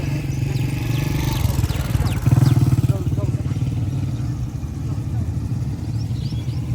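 Motorcycle engine running on a village road in the early morning, a steady low rumble that swells briefly louder as it passes close, with someone talking over it.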